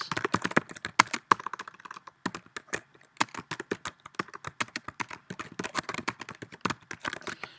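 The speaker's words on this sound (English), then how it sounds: "people always complain that my typing sounds like I'm banging on the keyboard" Rapid, uneven clacking of keys on a laptop keyboard, close and crisp, with a short pause partway through.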